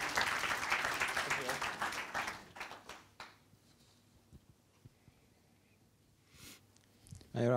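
A round of applause from an audience at a motivational speaking session, loud and dense for about three seconds, then thinning to scattered claps and quiet room noise before a brief burst at the end.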